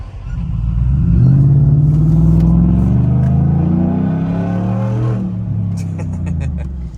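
A 2021 Ford F150 truck running on 93-octane fuel revs hard. Its engine roars loud and close, climbing and sustaining a throaty rumble for several seconds before easing off. No other sounds are heard.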